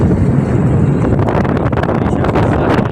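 Strong wind buffets the microphone in a constant roar while crossing the Tablas Strait, with no voices.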